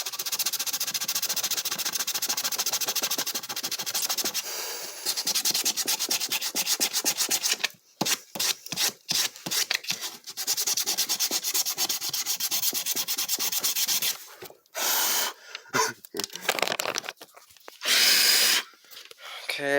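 Sanding plywood with a power sander, a steady loud abrasive rubbing for most of the span, then cut into short stop-start bursts with brief pauses.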